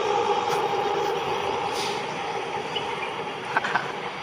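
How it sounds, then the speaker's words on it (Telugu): A train passes near a home garden, its steady broad rumble and clatter holding level the whole time, with a couple of brief brake-like hisses toward the end and no talking. "ఇది ఇదిగో ట్రైన్"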